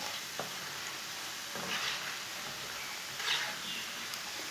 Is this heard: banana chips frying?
yes